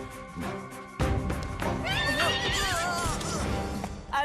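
A cartoon horse whinnies loudly in a long wavering cry over a dense bed of background music and effects, close and prominent.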